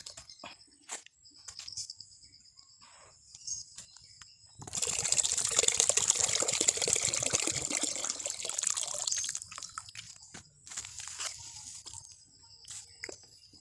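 Coconut water from two coconuts, about 1.5 liters, poured into a container while a fruit booster fertilizer is mixed. A splashing pour of roughly five seconds, close and moderately loud, set between quieter clinks and handling sounds.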